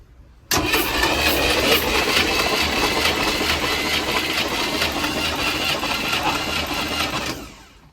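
The engine of a 1968 Ultra Van cranks steadily for about seven seconds during a compression test, a loud, even, rhythmic churning that starts abruptly and then winds down.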